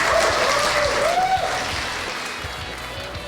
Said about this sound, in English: give these young people a standing ovation, please